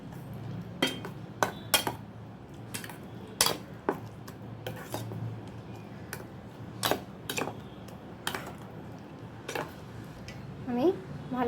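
Prawns are mixed with mustard oil in a bowl, giving irregular metallic clinks and taps of a spoon against the dish, loud and close, over a quiet background.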